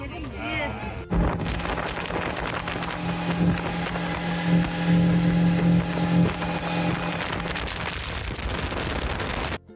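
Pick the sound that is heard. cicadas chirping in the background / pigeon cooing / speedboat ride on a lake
speedboat ride on a lake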